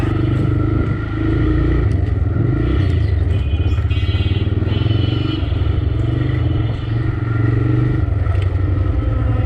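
Motorcycle ridden at an easy pace on a road with light traffic, its engine droning steadily and loudly throughout with small shifts in pitch and some mechanical clatter, no voices.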